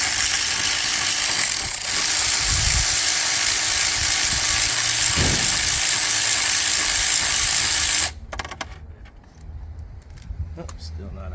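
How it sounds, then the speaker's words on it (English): A ratchet works loose the spark plugs on a Gen 3 HEMI engine, giving close metallic clicking and clattering for about eight seconds, then quieter scattered clinks and handling noises. "Taking them out, I recommend use the ratchet."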